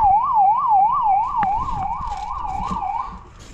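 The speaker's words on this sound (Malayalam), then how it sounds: "ഇവിടെ സൈറൻ്റെ സൗണ്ട് കൊടുത്തിട്ടുണ്ട്." The siren of a Force Trax ambulance wails loud and close in a steady rising-and-falling cycle that repeats about six times before fading slightly, with a faint click partway through.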